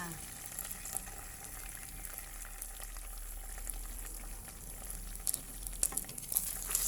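Chicken wings stir-fry in a pan with garlic, chili sauce and tomato sauce, a constant soft sizzle and bubbling with scattered spatula scrapes growing busier toward the end, close and moderately quiet.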